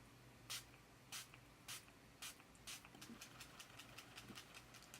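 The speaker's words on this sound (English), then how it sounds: "It's a very wet spray. It's not a fine mist" A cosmetic setting spray from the drugstore brand Joah Beauty, a 60-milliliter bottle, gives several separate, close, wet hissing bursts, then a quicker run of shorter, softer pumps, with no talking.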